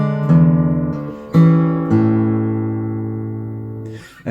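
Fingerstyle guitar plays measure 21 of Randy Newman's "When I'm Gone", a few sustained plucked chords with a bass line ringing out alone, close and clear.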